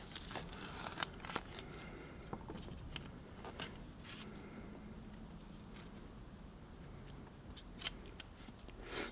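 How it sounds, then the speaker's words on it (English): Foam held by sticky tape is pulled out of a Ford Escape door panel, giving faint, quiet peeling and crinkling with scattered sharp tearing snaps over about nine seconds, no talking. "Next, pull this foam out."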